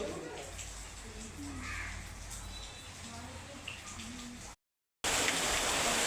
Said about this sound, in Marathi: एकादशी आणि पावसाचा जोर वाढतच चालला आहे.